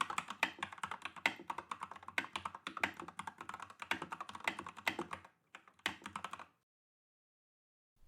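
Rapid typing on an LK67 mechanical keyboard fitted with Gateron Pro yellow switches and Matcha PBT XDA-profile keycaps, a dense run of close clacking keystrokes that thins to a few scattered presses and then stops.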